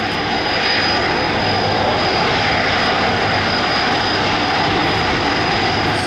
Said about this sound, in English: number 2, British Airways Boeing 747-400 Oneworld